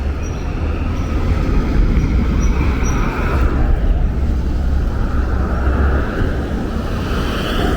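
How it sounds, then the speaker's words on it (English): Steady, loud roar of street traffic on Bedford Avenue in Brooklyn's Clinton Hill, a dense rumble of passing vehicles that continues without a break, with no talking. "And a lot of traffic."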